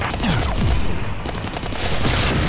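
Dense, continuous gunfire from the video game Call of Duty Warzone, a loud rattling fusillade of overlapping shots that fills the whole moment without pause.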